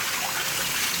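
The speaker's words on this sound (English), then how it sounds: "These potatoes have been cut. I'm just rinsing them to remove the extra starch." Tap water runs over freshly cut potatoes as they are rinsed of starch, a loud, steady gushing and splashing stream at close range.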